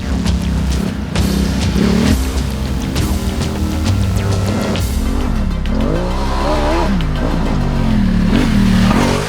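A Ducati Multistrada 1200 Enduro motorcycle is ridden off-road, its engine droning loud and close with rising and falling revs, wind buffeting the mic throughout, no talk.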